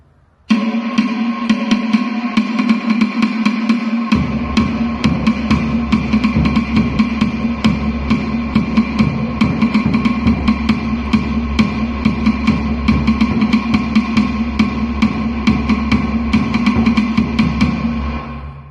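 Basic paha drum rhythm for Ori Tahiti dance, played as a steady, fast stream of evenly spaced hits that stays loud and continuous throughout.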